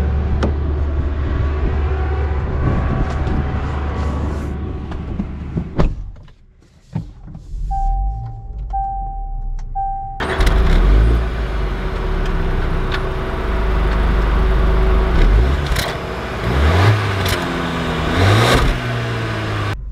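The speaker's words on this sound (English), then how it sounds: "Let's take this Discovery Sport out and see how it drives." 2020 Land Rover Discovery Sport HSE R-Dynamic setting off: a steady engine and cabin hum, then a brief quieter stretch with a short electronic chime before the engine note returns louder as the car pulls away.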